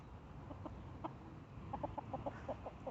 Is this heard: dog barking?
no